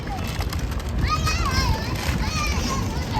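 Children play near Barauni railway station, their high, lively calls and chatter carrying at a moderate distance over general outdoor station noise.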